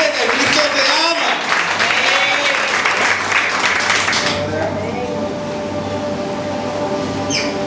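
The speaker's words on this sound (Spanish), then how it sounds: "Dale un fuerte aplauso al Señor" A church congregation claps loudly during a sermon, strong dense applause that fades after about four seconds into quieter room noise with some voices.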